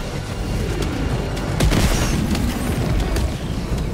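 An orbital barrage in Helldivers 2 thunders in a rolling series of booms and blasts, several sharp hits over a constant loud rumble.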